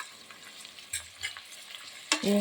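Onions and curry leaves fry in hot oil, a soft sizzling hiss with faint stirring scrapes that swells sharply louder near the end as more go into the pan.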